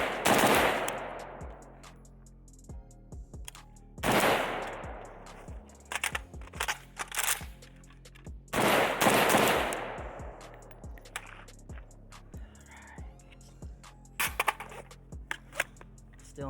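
Gunfire from a Pioneer Arms 5.56 sporter underfolder AK rifle rings out as loud, sharp shots, some in quick strings, echoing outdoors with mechanical clicks between them.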